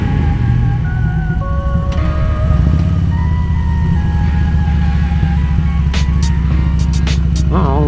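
A Harley-Davidson Road King Classic motorcycle rumbles with a deep, loud engine note that swells as it is revved, along with a few faint tonal squeals in the background.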